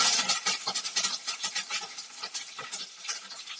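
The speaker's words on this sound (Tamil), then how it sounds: "ஆயில் ஹீட் ஆயிடுச்சு, பச்சை மிளகாய் சேர்த்துக்கலாம், கூடவே கருவேப்பிலையும் சேர்த்துக்கலாம்." Green chillies and curry leaves sizzling and spattering in hot oil, a close, crackly hiss full of rapid pops that stays busy throughout.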